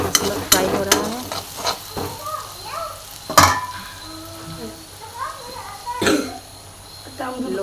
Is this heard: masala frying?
yes